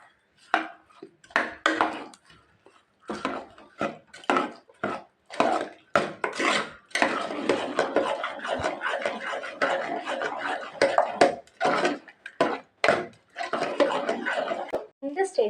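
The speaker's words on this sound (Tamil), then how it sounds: "1 கப்பு வெல்லம் போட்டுக்கலாங்க. போட்டு நல்லா மிக்ஸ் பண்ணிக்கலாங்க." Jaggery is stirred into moong dal payasam in a pot, with repeated scraping and knocking of a utensil against the pot in an uneven rhythm, close and fairly clear, with a voice speaking over it at times.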